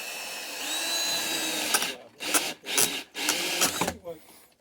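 A power drill drives a screw into wooden framing for a door in an off-grid cabin, whirring in several short bursts with brief pauses between, close and loud.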